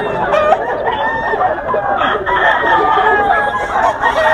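A rooster crows loudly and close by at a Philippine gamefowl market, its long calls standing out over a busy background of other birds and crowd noise.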